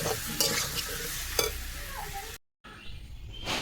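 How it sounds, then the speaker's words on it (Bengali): Potatoes are stir-fried with fried egg in a pan, giving a loud, close sizzle with scraping stirring strokes and a brief dropout near the end. "দেখো আলুটাকে ভালো করে কষিয়ে নেবো এর সাথে"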